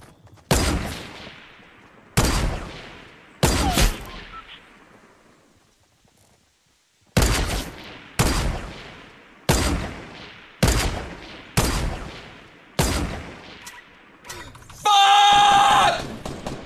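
Loud, close video-game gunfire from a legendary gun: a run of sharp single shots with ringing decay, evenly spaced with a short pause, ending in a dense burst of rapid fire.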